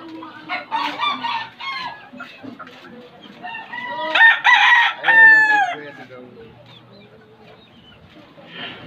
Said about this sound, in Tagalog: may mga manok oh